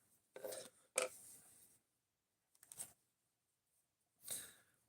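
A knife edge drawn along a leather strop loaded with polishing paste, four soft rasping strokes with pauses between, close and quiet.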